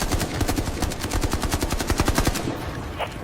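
Rapid automatic gunfire rattles in a fast, even burst of close shots for about two and a half seconds, then cuts off, leaving a quieter tail.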